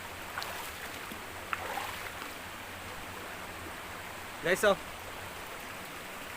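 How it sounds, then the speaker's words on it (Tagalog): Steady broadband rush of river water flowing in Barangay Cumba, Batangas City, continuous and moderately near, with a brief exclamation and a short burst of speech partway through. "Napakaganda ng ilog."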